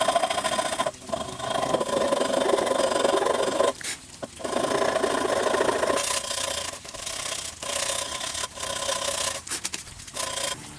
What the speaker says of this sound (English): Now we have to go back to smoothing. We have to go back to smoothing this out.